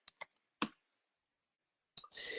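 Keyboard keys are pressed for the Shift+F6 shortcut, giving a few quiet, sharp clicks close to the microphone in a soft room, followed by a brief rustle.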